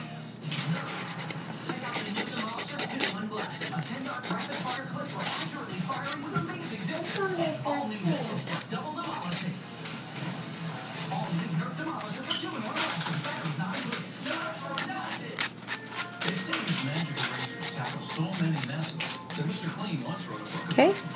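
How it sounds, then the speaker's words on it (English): An acrylic nail is filed inward toward a stiletto shape. Rapid, close scratchy file strokes repeat steadily throughout. "you're going to go ahead and file inwards to shape it"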